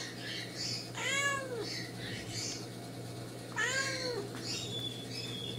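A Japanese cat gives two clear, drawn-out meows a few seconds apart, close by and moderately loud, over a low steady background hum.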